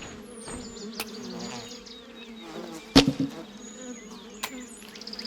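Stinging bees or wasps buzz in a steady, close swarm in the video game The Vale: Shadow of the Crown, with scattered impact hits and thuds cutting through the drone.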